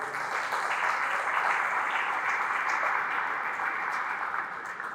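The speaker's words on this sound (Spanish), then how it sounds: "yo le pido un aplauso de ustedes a ellos" An audience at a human rights event in Santiago gives a work team sustained applause, a dense, even wash of clapping that holds steady throughout and tapers slightly at the end.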